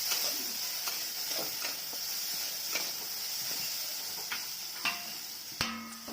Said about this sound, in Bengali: মিষ্টি কুমড়োটা হচ্ছে ভাজা